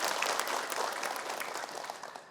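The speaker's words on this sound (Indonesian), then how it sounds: "Tepuk tangan buat ibu." Studio audience applause at a televised religious talk show, a dense steady patter of many hands clapping for about two seconds, moderately loud with no voices over it.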